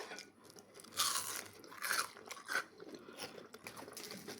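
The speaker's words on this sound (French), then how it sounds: "Ça croustille." Crunchy shrimp and vegetable tempura being bitten and chewed up close, with several crisp crackling crunches in an irregular rhythm and no talk.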